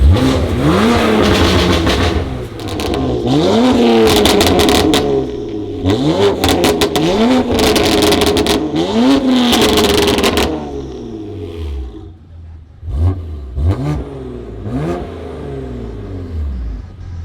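A BMW M2 Competition's exhaust revs repeatedly, rising and falling in loud bursts, then settles into a lower burble with a few short blips near the end.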